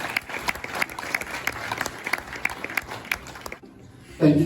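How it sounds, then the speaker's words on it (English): Guests at a wedding reception clap for the groom, a thin scattering of distinct hand claps at a moderate distance that fades out, followed by a brief voice at the end. "how about a big round of applause for Simon?"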